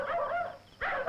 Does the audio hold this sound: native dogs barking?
yes